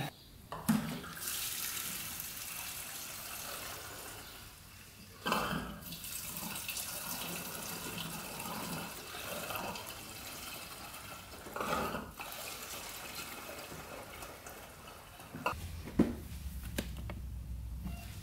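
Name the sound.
old fuel draining out of a quad's petcock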